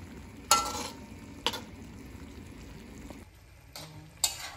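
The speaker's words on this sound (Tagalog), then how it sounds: "Haluin lang po ng mabuti." Chicken curry with curry powder stirred in a pan, a soft steady sizzle broken by a few sharp scrapes and clanks of the spoon, close and fairly quiet.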